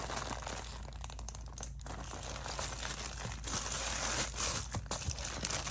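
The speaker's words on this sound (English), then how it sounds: "I am just going to reuse this old padded Amazon envelope." An old padded Amazon mailer is handled and crumpled, giving quiet, continuous crinkling and crackling with small crunchy bursts throughout.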